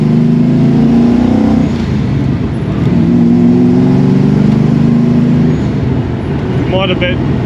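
A 1973 Ford XA GT with a 351 Cleveland V8 and five-speed manual pulls hard under acceleration, a loud steady engine drone from inside the cabin with a brief gear change, people talking over it.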